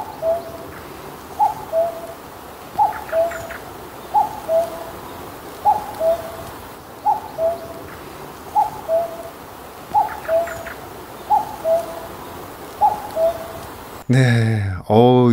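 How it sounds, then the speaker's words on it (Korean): A common cuckoo's call, recorded on a mobile phone, repeats its soft two-note phrase at a steady pace about ten times over faint background hiss, before a voice briefly cuts in at the end. "선생님께 영감을 준 뻐꾸기 소리 한번 들어보겠습니다"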